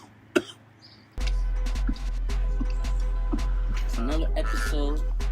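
A man gives a sharp cough near the start, then steady noise and voices fill the rest, with a few faint throat sounds mixed in.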